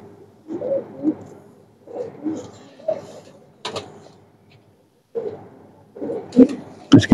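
Saharanpuri pigeons coo in soft, repeated throaty phrases close by, with short pauses between calls and a sharp knock near the end.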